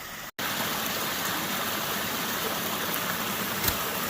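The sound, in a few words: backyard natural swimming pool waterfalls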